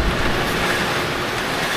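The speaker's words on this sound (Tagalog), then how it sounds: "Wala pa rin tigil ang malakas na pag-ulan" Heavy rain pouring steadily in Batangas, a dense, loud, continuous wash of broadband noise with low rumble, like wind and water battering the microphone, with no voices.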